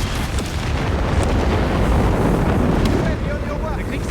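Artillery strike explosions in the WWII strategy game Company of Heroes 3 make a loud, continuous roaring rumble with rough, blasting texture that carries for several seconds before easing slightly.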